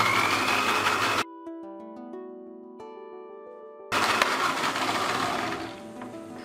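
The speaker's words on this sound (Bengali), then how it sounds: "এখন আমি ব্লেন্ডারে দিয়ে ব্লেন্ড করে নেব।" An electric blender whirs loudly as it blends a homemade cockroach repellent mixture with water. The motor cuts out for a few seconds, leaving a quieter steady tone, then roars back up and tapers off.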